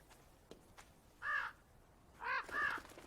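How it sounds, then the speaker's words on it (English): A crow in the game Draugen caws three times near a window, harsh clear calls with a pause after the first, preceded by a couple of soft taps. "There's a crow trying to get in. Flapping its way against the window."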